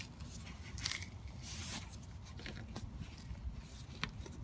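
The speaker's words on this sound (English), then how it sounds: "The pipe is crunching," A drained heater matrix pipe on a Ford Fiesta XR2i, clogged with built-up deposits inside, gives a few faint, close crackly crunches when squeezed, against a quiet background.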